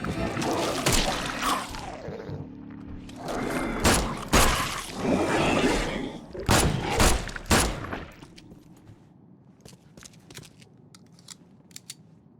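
A submachine gun in The Sinking City game fires in rapid bursts, several sharp clattering volleys separated by short pauses, fading to sparse clicks and quiet at the end.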